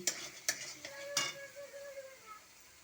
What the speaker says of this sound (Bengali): দেখো বন্ধুরা, শুটকি মাছ রান্না করছি।